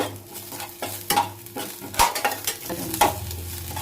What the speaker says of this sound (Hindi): सबको मैं चला लूंगी